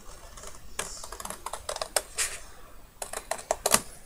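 Scissors or a blade snipping through the four sides of paper for an explosion box craft, a series of quick, close crisp cuts in irregular bursts, fairly quiet, no talking.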